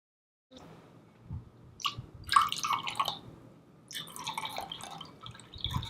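Homemade all-natural egg dye liquid is poured from one container into others, giving faint, irregular trickles and drips with brief pauses as the pour shifts between vessels.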